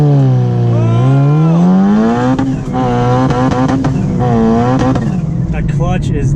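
A 510 whp Mitsubishi Evo 8 launches hard, its engine revving loud and close with rising and falling harmonic sweeps through fast gear changes, while people talk over it.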